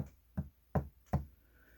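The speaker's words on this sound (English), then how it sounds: "Here is the sound of the veneers touching the building board" Three soft, evenly spaced knocks of thin wood veneers against a building board, quiet and close, with near silence between them.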